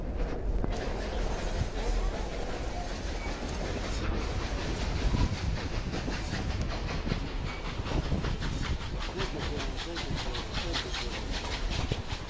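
The Durango and Silverton steam train rolls past in a loud, close, continuous roar, with rhythmic chuffing and clatter growing more regular as it goes.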